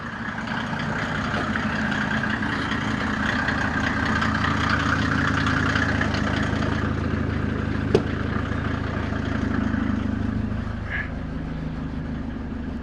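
A car engine idles steadily for the whole stretch, a low, even rumble close by with a faint click partway through.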